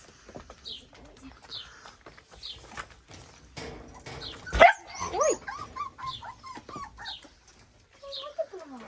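Short, high-pitched yaps from Laika puppies come in a loose rhythm, close by, alongside birdlike chirps and a louder burst partway through.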